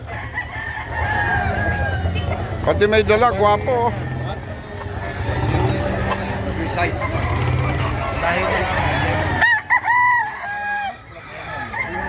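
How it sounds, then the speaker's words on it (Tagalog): Native chickens and roosters in Baliwag, Bulacan crow and cluck repeatedly nearby, while someone talks over them throughout. "Naghahanap po kami ng magandang klaseng manok."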